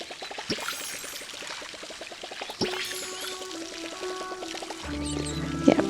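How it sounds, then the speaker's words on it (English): A watering can pours water over crops in the farming video game Palia, giving a steady trickling pour with a soft rhythmic patter under background game music. "You can just take your time and water your crop in peace."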